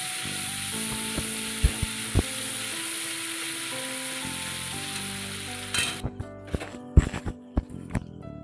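Spice paste fries in hot oil while being stirred, a dense close sizzle broken by sharp clicks and scrapes of the spoon, turning crackly and spattering near the end.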